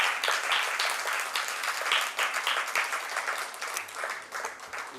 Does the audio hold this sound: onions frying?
no